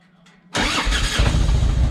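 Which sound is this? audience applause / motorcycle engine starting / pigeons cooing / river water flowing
motorcycle engine starting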